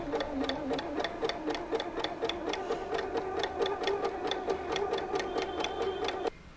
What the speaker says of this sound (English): First we have to stitch slowly, then we can start, and it should be in the middle speed only.